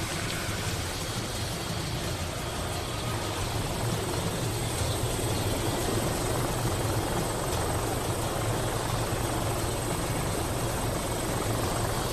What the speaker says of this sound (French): Pourquoi ils ont fait venir l'hélicoptère de l'entreprise?